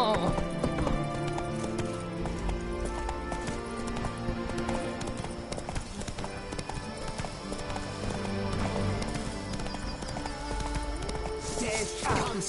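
Horse hooves clip-clopping at a gallop in The Witcher 3: Blood and Wine, with brief whinnies, under game music and effects throughout, fairly steady and close.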